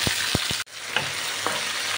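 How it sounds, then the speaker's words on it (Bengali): Chopped garlic, capsicum and carrot sizzle in olive oil in a pan, a steady crackling hiss broken by a few sharp scraping stirs. "নেড়ে ছেড়ে কিছুক্ষণের জন্য ভেজে নিতে হবে।"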